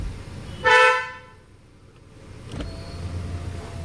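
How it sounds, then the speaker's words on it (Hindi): A single short beep from the horn of a 2025 Hyundai Verna, heard from inside the car with the window open, followed by quiet cabin and road background. "मैं आपको हॉर्न सुनाता हूँ गाड़ी के अंदर से, एंड मैं इसका विंडो ओपन करता हूँ एंड अब आप सुनिए हॉर्न।"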